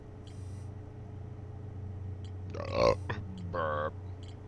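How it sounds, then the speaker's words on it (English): A video game character in Outer Wilds lets out a burp as a short, buzzy eructation, followed by a second longer burp, over a low steady hum and a few faint electronic blips. "Burp."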